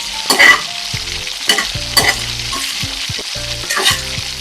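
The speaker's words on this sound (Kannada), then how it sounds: "ಆಮೇಲೆ ಸ್ವಲ್ಪ ಮೊಗ್ಗು ಇಷ್ಟು ಹಾಕಿ ಸ್ವಲ್ಪ ಹುರಿಯುವ." Whole spices such as cloves fry in oil in a pan over a medium flame for egg biryani. Constant sizzling sits under repeated metallic scrapes and clanks of a stirring spoon, close and fairly loud, with no speech.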